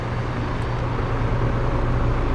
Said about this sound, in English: We have an AC fan again